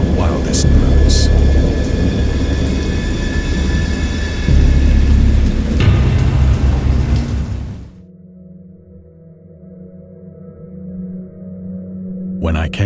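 A heavy thunderstorm with steady rain and deep rumbling thunder, loud and close for several seconds, then dropping to a quieter low rumble before a final burst.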